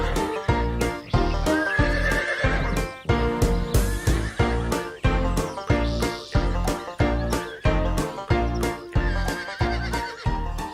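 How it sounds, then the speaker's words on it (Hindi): A horse's hooves clip-clop steadily as it walks and breaks into a gallop, with loud repeated neighs and whinnies cutting in over the rhythmic hoofbeats, close and prominent throughout. "घोड़ा धीरे चलता है तो उसे चलना कहते हैं।"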